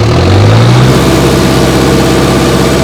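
A Mahindra Novo 605 4x4 tractor engine running loud and close with the clutch pressed, a steady heavy drone with a low rising tone early before settling into an even roar.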